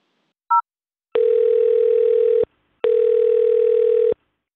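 On a telephone line after an automated phone menu, a short dial beep is followed by two long, steady ringing tones separated by a pause, loud and clear with no voices.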